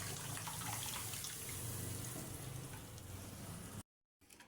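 Dal with cumin and coriander being stirred in a pot, a continuous sizzling, bubbling wash of noise that holds steady before cutting off briefly near the end.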